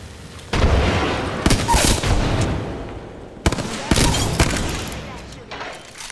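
Bursts of automatic gunfire from Bangalore in the battle royale game Apex Legends, loud rapid volleys in two main strings separated by a short pause.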